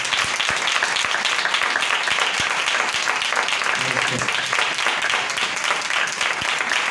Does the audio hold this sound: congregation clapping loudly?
yes